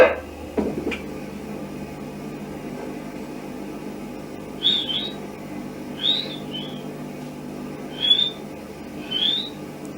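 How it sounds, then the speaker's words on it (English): Four short, high whistles sound at spaced intervals over a steady hiss, like an old tape recording, after a brief knock at the start. "You'll hear here the whistling first of all, and then the barking."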